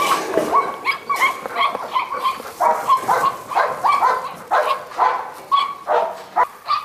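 A golden retriever whimpers and gives short yipping barks in a steady series of repeated high-pitched cries, close and fairly loud, with no one speaking.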